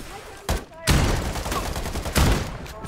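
Shotgun fire in the battle royale game Farlight 84: two heavy, loud blasts about a second and a half apart, each ringing out over a dense bed of ongoing gunfire and game noise.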